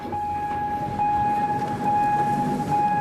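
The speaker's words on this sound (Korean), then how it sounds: "한 뼘 차이로 닿을 듯 말 듯 위험천만하게 스쳐 지나가는 기차." A train rolls slowly through the Shimonoseki morning market along the tracks, giving a steady rumble under a long sustained tonal whine or horn that stays loud throughout.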